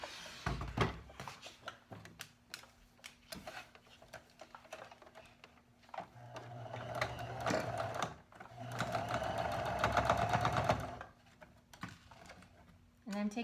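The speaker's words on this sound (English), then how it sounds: "Now it's time to stitch those in place at 1/4 of an inch." A sewing machine stitches the ties of a two-layer fabric face mask in place, running in short bursts and then one longer steady whir, with soft clicks and handling noises between runs.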